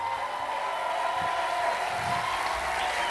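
A church congregation applauds, a steady, dense wash of clapping from many hands that holds at an even level throughout, with a faint tonal hum beneath.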